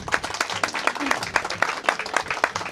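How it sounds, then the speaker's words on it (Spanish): Applause from an audience at a municipal gathering welcoming a speaker to the podium, a dense patter of clapping hands that stays steady and fairly loud throughout. "Recibámoslo con fuertes aplausos."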